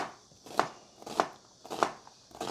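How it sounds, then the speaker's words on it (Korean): A knife cutting onion and vegetables in a kitchen, four evenly spaced crisp chops about half a second apart, close and fairly quiet with little else around. "이제 커팅하면 될 것 같습니다"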